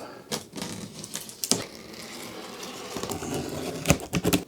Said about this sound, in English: So let's get the tape cut and open it up.